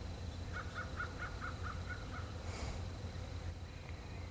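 An Osceola wild turkey in Florida gives a short rippling gobble of about seven quick notes early on, moderately distant over steady outdoor background noise.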